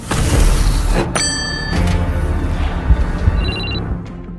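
A telephone in a spy-thriller film scene rings in short electronic bursts, once early and again briefly near the end, over a loud rumbling, booming score.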